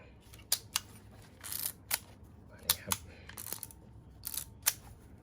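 An Olympus-S 35 rangefinder film camera's shutter and mechanism click repeatedly, a series of sharp, close, crisp snaps spaced irregularly over a quiet background.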